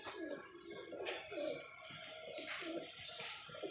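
Pigeons at a pigeon club coo in repeated soft, throaty rolls close by, overlapping one another in a steady rhythm with faint chirps and light background noise.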